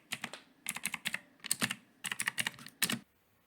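Typing on a computer keyboard: quick clusters of crisp, close key clicks in short bursts with brief pauses between them, alone and fairly quiet.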